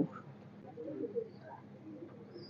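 A breeding pair of Teddy pigeons gives soft, faint cooing in short low murmurs, close by with no talk.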